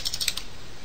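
Quick keystrokes on a computer keyboard tap out in a short burst of about five clicks, close and crisp, with no talk.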